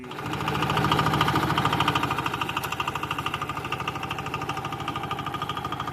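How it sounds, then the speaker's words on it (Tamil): A power tiller engine runs steadily just after starting on its first day in the field, a loud, close, rhythmic chugging idle that continues throughout with no speech. "வண்டியை ஸ்டார்ட் பண்ணி விட்டுட்டோம்."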